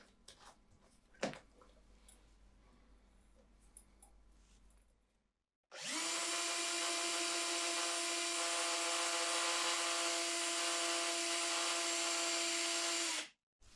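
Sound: electric drill spinning

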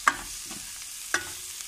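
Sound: stirring and frying spices and potato beans in a pan

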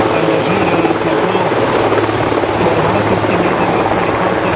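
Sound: Slovenian army helicopter landing

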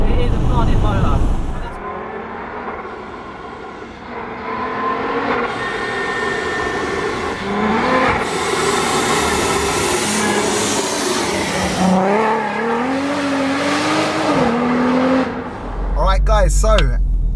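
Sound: supercharged 500 bhp VW Golf R32 driving hard through corners

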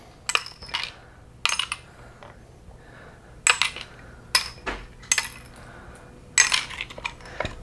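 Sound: metal differential parts tossed into rinse container

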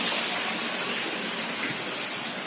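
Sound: heavy rain falling

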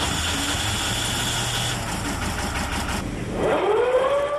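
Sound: enclosed lifeboat engine starting

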